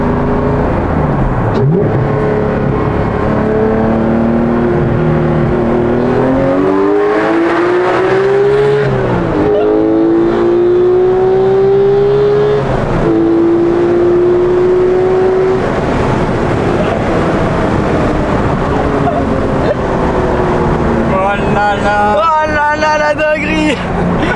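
A Porsche 991.2 GT3 flat-six engine revs hard and loud to 9000 rpm inside a tunnel, rising and falling through several gear changes, with the sound echoing off the walls and speech intermittently over it.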